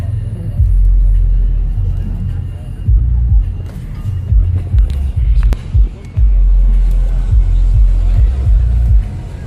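Diesel pickup trucks parked at a Gwinnett County, Georgia car show rumble with a deep, loud idle that swells and dips repeatedly, with crowd murmur and people talking in the background.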